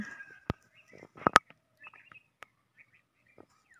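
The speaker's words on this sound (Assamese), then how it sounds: "যিহেতু চৰাই আহিছে তাকে ডকাইছোঁ" Birds call in a home garden with a few sharp, scattered chirps and clicks, some close and some faint, against a mostly quiet background.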